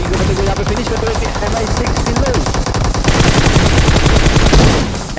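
Rapid automatic gunfire from the mobile battle royale game BGMI during a tournament scrim: continuous loud bursts that grow denser and heavier midway, played close and dominant over the mix.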